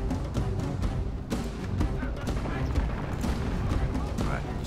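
Musket volleys from soldiers in a video game battle between English and Russian forces at Kiev, a dense crackle of overlapping shots over a constant battlefield roar, with a heavier burst near the start.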